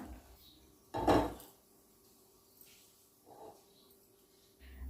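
One loud clattering bump as a pot of cooked broad beans comes off a home stove, then softer metal knocks as a kadai is set down, close by in a quiet kitchen.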